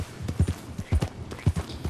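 Horse hooves clip-clop in Red Dead Redemption 2, a close, uneven run of heavy thuds in pairs and clusters, with no talking.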